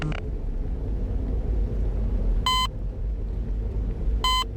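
Two short, bright electronic beeps from the video game Interloper ring out over a constant low rumble, spaced a couple of seconds apart.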